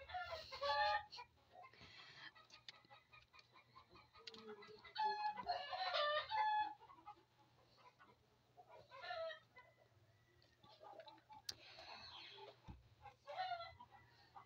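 Many chickens cluck and roosters crow in bursts over a few seconds, some close and some farther off, against a quiet background with a faint low hum.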